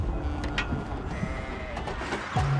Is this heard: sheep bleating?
yes